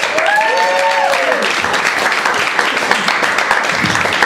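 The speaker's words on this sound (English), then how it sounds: "Make some noise for Carolyn Redmond, everybody!" Loud, dense applause from a crowd fills the room, with a few whoops or cheers briefly rising over the clapping at the start.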